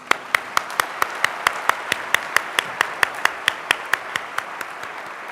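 At a student recognition awards ceremony, clapping for the award recipients comes as a steady, evenly spaced run of about two dozen sharp claps, close and distinct over a faint background murmur.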